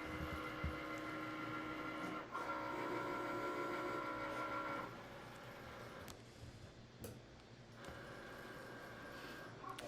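A cutting machine cuts glitter heat transfer vinyl with a steady mechanical hum and faint ticking of the blade carriage, shifting in pitch as it moves, fairly quiet and with no voices.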